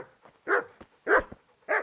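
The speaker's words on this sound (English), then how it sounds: "And there's a dog over here too." A dog in the medieval game Kingdom Come: Deliverance barks three times in a slow, evenly spaced series, each bark loud and close, with quieter whimpers and yips between them.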